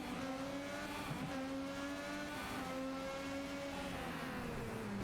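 Onboard a Champ Car race car at the Montreal Grand Prix, the engine drones steadily and then slides down in pitch as the car brakes hard into a corner, loud and continuous with no voices.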